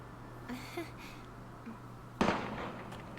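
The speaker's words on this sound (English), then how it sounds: "Gunfire!" Gunfire erupts in the Valkyria Chronicles battle prologue, a single sharp blast that rings out briefly after a quiet stretch of faint background tones.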